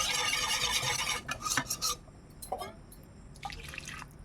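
A spoon stirs milk into a mango yogurt mixture in a bowl, making wet sloshing and scraping sounds in short uneven bursts with small drips and clinks, close and clear.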